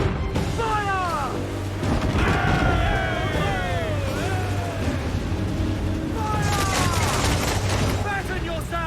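Ship cannon broadside in Assassin's Creed IV Black Flag, a continuous roar of booming gunfire and crashes, loud and dense, with shouting crew voices over the battle.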